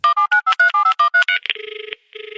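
A telephone is dialed in a radio studio: a quick run of about nine sharp keypad tones, then a steady two-tone ringback that pauses briefly before it sounds again.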